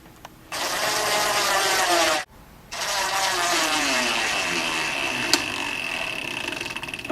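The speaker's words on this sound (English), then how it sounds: "and screw it into place." A power driver sinks 1/2-inch flathead screws through an L bracket into the corner of a lazy susan cabinet, two sustained whirring runs split by a short pause, steady and close, no voices.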